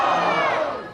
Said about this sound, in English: We got a hostile crowd over here